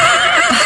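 A horse gives a short, loud, close whinny, a brief shrill neigh filling the moment.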